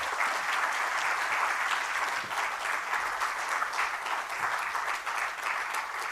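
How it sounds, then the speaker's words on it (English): Conference attendees at a digital entrepreneurship session applaud the speakers with steady, evenly sustained clapping that holds at a moderate level throughout. "ladies and gentlemen, a round of applause to our eminent speakers"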